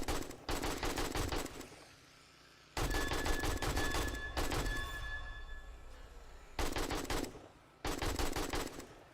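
Machine gun fire in the video game 7 Days to Die comes in loud, rapid bursts broken by short pauses, one longer stretch carrying faint ringing tones, with no talking.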